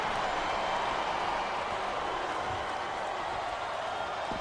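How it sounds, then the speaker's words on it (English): A match crowd cheers in a steady, distant roar that holds at an even level throughout, with no single voice standing out. "The crowd is coming alive."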